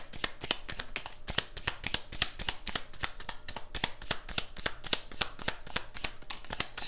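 Tarot cards riffled and snapped as they are shuffled and pulled, a steady run of crisp, close slapping clicks with no talk.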